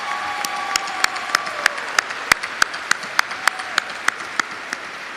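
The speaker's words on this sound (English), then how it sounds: "Please join me again in applauding the faculty for their service to OSU" Commencement audience applause for the faculty at an Oklahoma State University ceremony, a steady crowd clap with sharp individual hand claps ringing out regularly and close over the softer wash.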